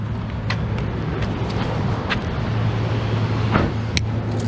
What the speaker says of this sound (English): Maybe I should turn off my motor at some point